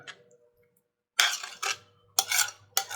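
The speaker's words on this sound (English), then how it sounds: "all I do is just rake it into the bowl, like so" Guacamole being raked off a plate into a small Pyrex glass bowl, three or four short scraping swipes of a utensil across the dish after a quiet pause, close and fairly loud.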